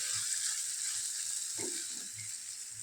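Carrots and peas cooking soft in a pan, a faint steady sizzle with a few soft stirring scrapes, close and quiet with no talking.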